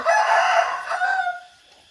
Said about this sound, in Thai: คลิปนี้มีแต่เสียงไก่จริงๆ